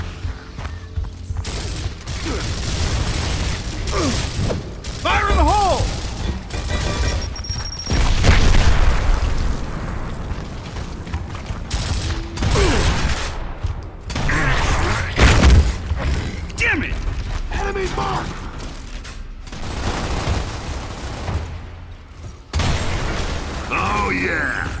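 Grenade explosions in the video game Gears of War, several loud booming bursts scattered among steady gunfire and clattering combat noise, with shouted voices breaking in between the blasts.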